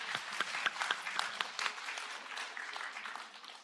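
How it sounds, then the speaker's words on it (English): Symposium attendees give a round of applause, a moderately distant wash of many hands clapping that holds steady and then tapers off. "Let's give them a round of applause."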